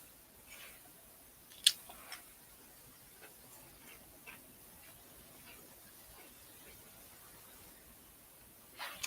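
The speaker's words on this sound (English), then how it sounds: "Don't mind my munching." Potato chips being munched and crunched late at night, with faint, sparse crunches scattered over a quiet background and a few sharper bites standing out.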